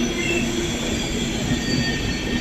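A train runs along the rails in India with a steady loud rumble and faint wheel squeal, heard close and continuously with no speech.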